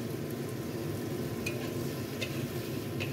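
Steady sizzling in a pan with a few light scrapes of a spoon stirring in white sugar, brief and close.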